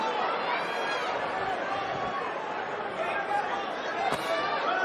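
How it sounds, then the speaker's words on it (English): Boxing arena crowd during a Ryan Garcia versus Mario Barrios fight, a steady dense murmur of many voices filling the hall at even loudness throughout, with no single voice standing out. "Crowd starting to finally settle down a little bit."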